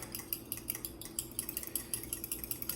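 A whisk or fork clinks lightly against a bowl while eggs are mixed, giving a quick, irregular tapping rhythm that stays fairly faint and close, with no talking.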